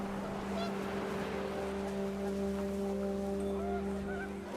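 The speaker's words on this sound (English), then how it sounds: "The wind picked up, and panicked geese appeared and quickly went" Panicked geese honk in What Remains of Edith Finch against a steady windy drone, a few faint cries rising over the continuous low hum.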